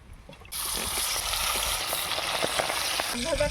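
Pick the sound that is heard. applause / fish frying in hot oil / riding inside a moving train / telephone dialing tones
fish frying in hot oil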